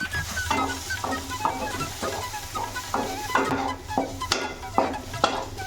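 A spatula stirs fried banana and scrambled egg in a pan for Thalassery kaayikritha, with regular scraping strokes about once a second over a steady low sizzle, close and moderately loud.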